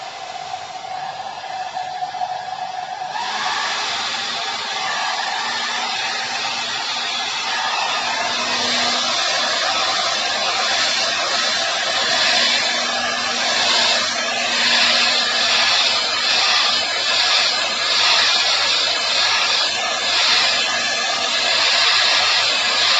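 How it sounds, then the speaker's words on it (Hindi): Hair dryer blowing on a watercolor painting, a loud steady whooshing hum that switches on after a few seconds and then runs continuously at close range, with no talking. "चलो ड्रायर यूज कर लेते हैं।"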